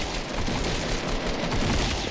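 Dense, continuous gunfire from a Fortnite match, a steady broadband barrage of overlapping shots with no clear gaps and no talk.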